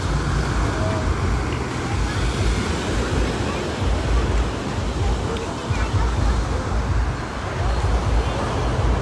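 A steady, loud wash of surf rolls on without pause, ocean waves and wind blending into a continuous roar with no talking, on the Thai coast near Koh Samet.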